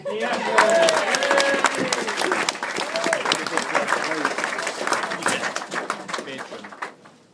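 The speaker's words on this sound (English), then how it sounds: "round of applause" A roomful of guests at a speech gives a round of applause, many hands clapping steadily for several seconds while voices talk over it, before the clapping thins and fades out.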